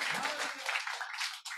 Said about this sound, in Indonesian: Jadi, tepuk tangan bagi Yesus, jadi.